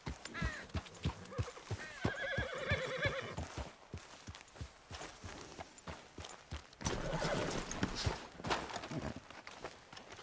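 Horse in Red Dead Redemption 2 whinnying loudly while its hooves clip-clop in a steady trot, close and continuous under game ambience.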